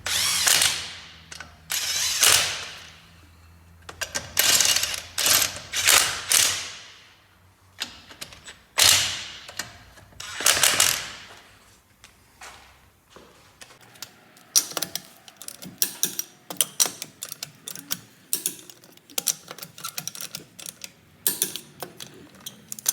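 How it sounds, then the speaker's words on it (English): Wheel lug nuts on a Mitsubishi Mighty Max pickup are tightened with a torque wrench to 90 foot-pounds: bursts of close metallic ratcheting clicks come in uneven runs, loud at first and then lighter and more scattered, with no talk. "And I torque them to 90 foot-pounds usually."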